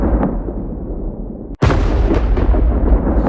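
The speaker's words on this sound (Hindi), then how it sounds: "तभी बादलों की गड़गड़ाहट सुनाई दी" Thunder rumbling from storm clouds, a sharp loud crack about halfway through followed by dense rolling rumble, heavy and close.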